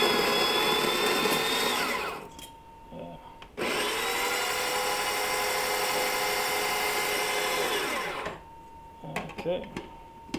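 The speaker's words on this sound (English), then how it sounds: "It's a burr grinder, so it makes a nice even grind." A burr coffee grinder grinds beans for a moka pot in two loud whirring bursts with a short pause between them, and the motor winds down at the end.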